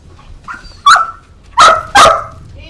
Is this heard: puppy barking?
yes